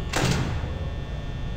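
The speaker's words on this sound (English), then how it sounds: "Shall I close the door?" A door in the Five Nights at Freddy's video game shuts with a single quick mechanical slam and thud near the start, followed by a steady low hum of background ambience.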